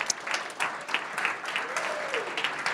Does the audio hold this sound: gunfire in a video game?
no